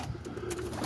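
A roller pigeon coos softly in a backyard loft, a single low murmuring coo running through the short moment with faint room noise around it.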